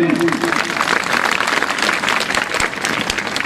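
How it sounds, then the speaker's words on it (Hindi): An audience applauds at a theatre exhibition event, dense, loud, continuous clapping from a large crowd, with a voice speaking briefly over it at the start. "तालियां बजाने में संकोच मत करिए"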